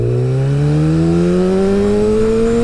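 A motorcycle fitted with a Healtech quickshifter being ridden, its engine droning loud and steady as the pitch climbs smoothly through one continuous pull, heard from on the bike.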